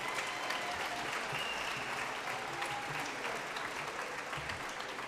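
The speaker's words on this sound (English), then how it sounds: "we will now applaud your achievements." Sustained audience applause at a school senior awards ceremony, steady dense clapping from a large crowd filling the room throughout with no talk.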